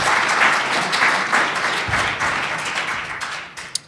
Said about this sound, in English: I wasn't thanking you for that applause